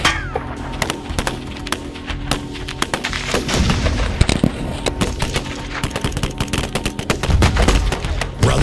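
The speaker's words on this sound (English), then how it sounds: "you cannot hide behind an I-beam when there's a 50 cal present" A .50 caliber machine gun fires in rapid, loud bursts of heavy gunshots outdoors, the repeated reports and booming echoes continuing throughout with no talk.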